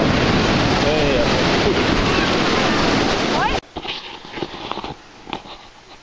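Ocean waves wash far up a beach as a loud, dense, roaring rush. It cuts off abruptly midway to quieter outdoor noise with soft bumps.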